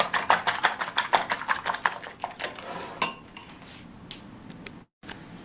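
A utensil beats food quickly in a pan of melted butter, making a fast train of sharp metallic clicks and scrapes that slows and thins out toward the end.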